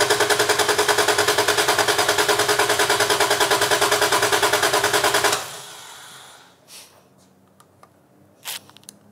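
An engine cranks steadily with the fuel turned off, a rapid rhythmic chugging for several seconds, then stops, leaving quiet with a few faint clicks.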